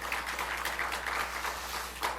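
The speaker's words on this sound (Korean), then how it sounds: "환영의 박수 한번 해주시길 바랍니다" Congregation applauding to welcome two church elders at a Friday evening worship service, a steady dense patter of many hands filling the room with a slight swell near the end.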